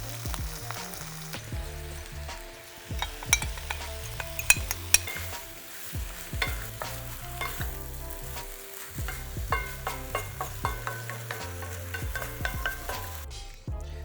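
Dak galbi, Korean chicken frying in a pan, sizzles steadily while a utensil stirs and scrapes, with frequent clinks and knocks against the pan throughout, close and fairly loud.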